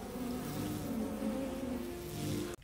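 A dense swarm of bees buzzing loudly and steadily up close, a continuous droning hum that cuts off abruptly at the end.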